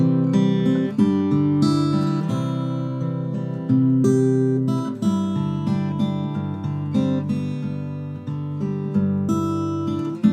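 Fingerstyle acoustic-style guitar playing the verse of a song, with a steady flow of plucked chords, bass notes and melody notes ringing clearly and close up, and no voices.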